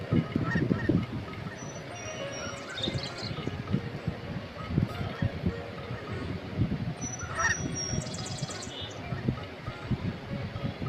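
Cartoon ducks honk repeatedly in scattered bursts over a busy background, loud and close, with some brief vocal sounds mixed in.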